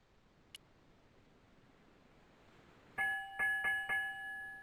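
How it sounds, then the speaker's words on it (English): A ship's bell in the PC game Broken Sword II: The Smoking Mirror rings after near silence, with four quick, quiet metallic strikes in two close pairs that leave a short fading tone. "Okay, what about this bell? It was a ship's bell."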